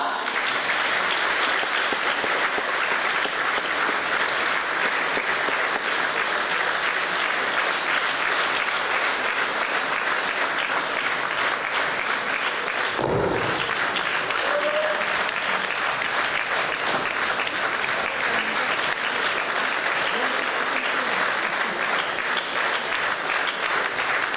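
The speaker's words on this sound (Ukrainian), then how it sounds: "Отож, зустрічайте гучними оплесками." A hall audience at a jubilee creative evening in Berdychiv gives sustained, dense applause to welcome the guest of honour, many hands clapping steadily and loudly for the whole stretch with a single louder thump midway.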